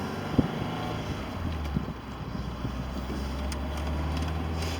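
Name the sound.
wind while driving convertible car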